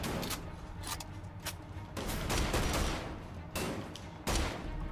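Gunfire from the video game Wolfenstein: The Old Blood comes in several rapid, sharp volleys separated by brief pauses, moderately loud and with no talking over it.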